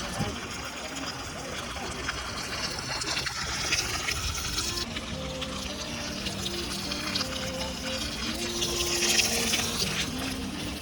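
Water pours down at Lihonjar waterfall in Karbi Anglong in a constant rushing splash, with a voice speaking over the steady wash.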